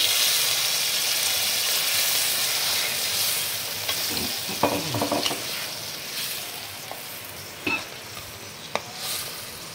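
Mustard prawns (shorshe chingri) sizzle and hiss loudly in a pan after a little water is added, a steady close frying roar with occasional stirring scrapes and pops.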